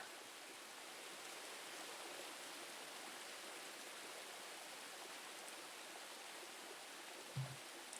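Steady broadband rush of a waterfall and flowing stream, constant and fairly loud throughout with no voices, ending in a brief low thump near the close.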